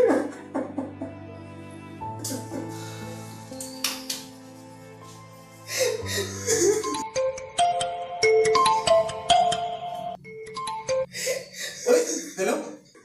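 A phone ringtone plays as a steady electronic tune in a Hindi suspense short film, moderately loud with voices talking over parts of it.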